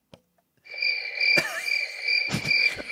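A cricket sound effect played from a novelty button gives a steady, bright, high chirping trill that starts after a click, with a few sharp knocks over it, loud and close.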